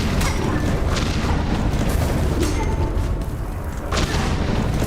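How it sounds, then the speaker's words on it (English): Bomb blasts in Hollow Knight: Silksong go off as a dense, rumbling boom that fills the whole stretch, with a few sharper bursts standing out over a continuous low roar. "those bombs have a lot larger range than I thought they did"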